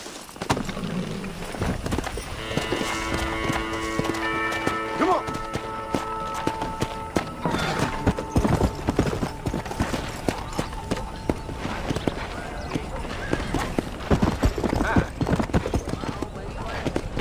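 Horse hooves clip-clop steadily at a trot in Red Dead Redemption on PC, a close rhythmic clatter with someone talking over it and other game sounds underneath.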